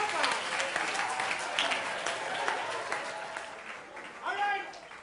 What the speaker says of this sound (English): Clap her! Clap her!